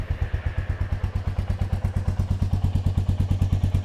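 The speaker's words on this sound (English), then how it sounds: "let's start this particular motorcycle" Royal Enfield Meteor 350 motorcycle engine idling steadily after starting, a close, even thumping pulse of regular low beats repeating several times a second with no talk.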